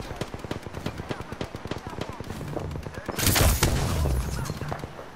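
Rapid gunfire from an Apex Legends firefight, a fast run of sharp shots that swells into a loud, dense burst of automatic fire partway through, with game ambience underneath.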